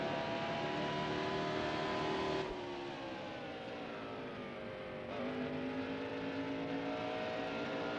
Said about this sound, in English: My engine sounds sick for some reason.